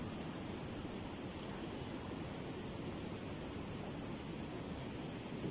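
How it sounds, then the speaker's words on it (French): A flowing river in an outdoor natural setting, a steady, even rush of water that holds at a constant moderate level for the whole stretch, with no voices and no other distinct sounds. "Écoutez le chant de la rivière,"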